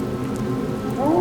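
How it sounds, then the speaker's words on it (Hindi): Heavy rain pours steadily as a spooky story sound effect, a dense continuous wash of drops on a surface that swells louder toward the end, with no voices. "बरसात की बूंदें तेज हो चुकी थीं।"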